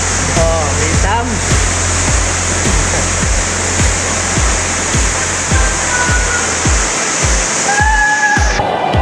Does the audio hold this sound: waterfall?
yes